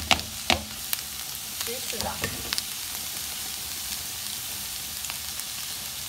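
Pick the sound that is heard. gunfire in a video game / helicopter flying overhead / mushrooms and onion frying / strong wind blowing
mushrooms and onion frying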